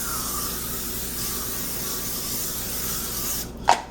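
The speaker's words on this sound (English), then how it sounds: "All right, I'm going to spray." A steady hiss of cooking spray onto a casserole dish for a few seconds, then a short sharp burst near the end, close by with no voices.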